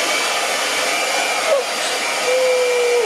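A blow dryer runs steadily and loudly to dry a freshly applied layer of latex for special effects creature makeup, a continuous whooshing roar with no talk.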